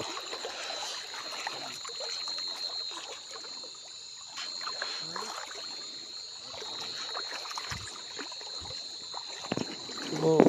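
Steady flowing water rushes continuously in the open, with a constant thin high-pitched whine running alongside and a few faint knocks near the end.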